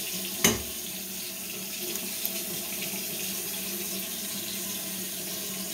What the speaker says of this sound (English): He's going to rinse it out.